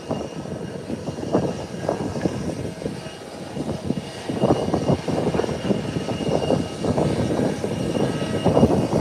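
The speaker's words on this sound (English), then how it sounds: "JetBlue is preparing to go, heading into New York, JFK." A JetBlue airliner readies for departure at an airport, its jet engines making a steady, loud, broadband roar that rises slightly over the clip, with no talking.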